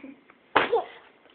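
A dog gives a single sharp, close sneeze, a short burst of air that stands out against a quiet room.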